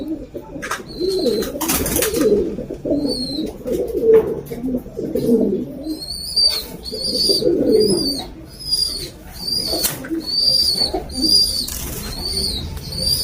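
Breeder pigeons in a loft, including a young yellow stencil bird, coo in repeated low throaty phrases close by, with wing flaps and higher chirping calls scattered throughout.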